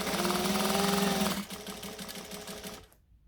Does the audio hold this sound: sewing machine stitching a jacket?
yes